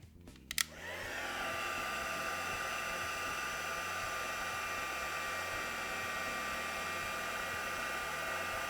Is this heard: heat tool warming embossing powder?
yes